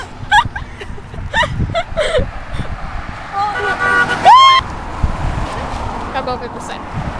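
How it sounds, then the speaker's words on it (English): Car horns honk from passing vehicles on a street: several short toots scattered across the clip over traffic noise, with people talking nearby. "Hey, please honk for us."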